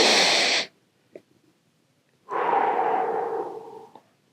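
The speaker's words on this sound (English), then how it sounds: "Just take a deep breath." One deep breath, close and clear: a quick sharp inhale, a short pause, then a long, slowly fading exhale.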